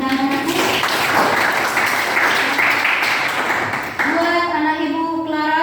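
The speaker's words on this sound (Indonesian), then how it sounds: "Kita berikan tepuk tangan." Audience at a classroom-style talk or seminar applauding, a dense wash of clapping that carries on steadily for several seconds while a voice and music-like tones sit underneath.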